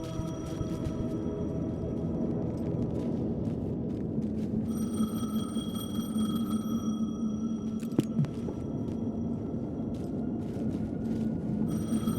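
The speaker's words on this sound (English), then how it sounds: "The payphone was ringing." A payphone rings inside the Alan Wake 2 video game, its bell-like tone sounding steadily over a low ambient rumble with no voices.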